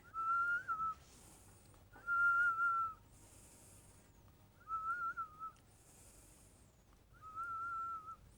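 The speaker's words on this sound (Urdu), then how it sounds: "یہ سیٹی نہ بجائیں" A person whistles on a TV talk show, a steady mid-pitched tone held in four separate bursts spaced a couple of seconds apart, fairly clear over a soft background.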